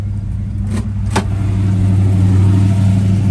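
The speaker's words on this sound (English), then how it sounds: "wow, what a nice sounding car" A 1966 Chevrolet Impala V8 engine idles with a low steady rumble, then briefly revs before settling back to a loud, continuous hum.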